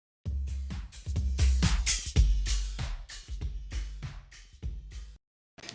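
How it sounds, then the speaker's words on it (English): Drum loop processed with a Doppler effect as if passing by in a moving car, kicks and snares swelling louder toward the middle then fading and thinning as it moves away. "it's gonna sound like this drum loop is passing by, like it's emitted from a moving car"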